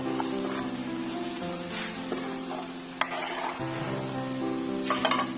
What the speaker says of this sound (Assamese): ধুনীয়াকৈ ভাজি ল'ম মছলাখিনি দি।